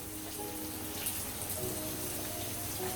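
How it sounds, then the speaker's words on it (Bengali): Sliced onion and green chilli hit hot oil in a frying pan for a potol and potato fry, giving a steady, close, hissing sizzle with light crackle throughout. "আমি পটল আলু ভাজার জন্য পেঁয়াজ কাঁচামরিচ দিয়ে দিচ্ছি"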